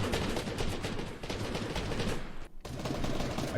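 Dense, continuous automatic gunfire in Fortnite with bullets pounding a built wall, a loud steady barrage that briefly drops out once before resuming.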